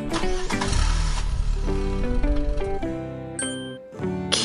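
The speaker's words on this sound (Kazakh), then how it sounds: "Көлік." A car engine starting, a brief rumbling turnover near the start, mixed with a bright melodic tune that carries on alone afterward.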